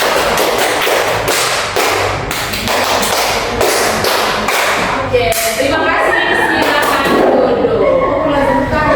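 Workshop participants at a coding and AI session clap twice in a counted five-beat pattern, sharp, loud, evenly spaced claps repeating through the clip, with a voice speaking over them.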